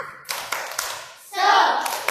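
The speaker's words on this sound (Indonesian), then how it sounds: "Tepuk semangat." Children in a classroom do a rhythmic spirit clap, sharp patterned claps in quick sequence close to the listener, with voices chanting along.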